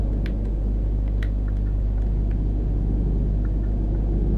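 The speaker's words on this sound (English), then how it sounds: "It's a decent engine sound on this truck as well." A deep, steady truck engine rumble drones throughout in a truck-driving video game, with faint clicks and taps on top; no voices, a continuous low vehicle hum.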